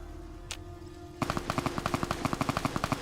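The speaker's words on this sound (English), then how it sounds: "I just think they're just random gunshots." Random gunfire rings out in the video game Fallout: New Vegas: a single faint crack, then a rapid, loud machine-gun burst of evenly spaced shots that keeps firing to the end.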